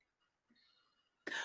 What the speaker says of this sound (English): I'm coughing, something else is trying to stop me